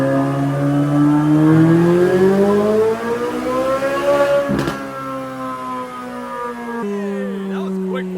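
A 2023 Corvette C8 Z06 makes a third gear dyno pull, its engine screaming loudly and climbing in pitch before a brief break and a settle to a lower steady note.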